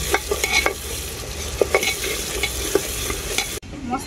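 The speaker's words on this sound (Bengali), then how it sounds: "এরপর আমি মশলাটাকে খুব ভালো করে কষিয়ে নেব।" Spice masala sautéed in a pan for a mutton curry, with turmeric and Kashmiri chili powder. It gives a continuous close sizzle broken by several scraping stirs, with no talk.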